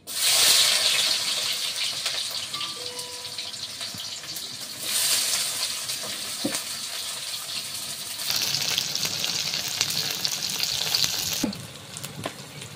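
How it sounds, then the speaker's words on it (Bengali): Onions and green chillies sizzle in hot oil for a village-style duck curry, a steady broadband crackle that swells in loud bursts with occasional stirring clinks, with no voices. "তো তেলে পেঁয়াজ কাঁচা লঙ্কা দিয়ে দিচ্ছি"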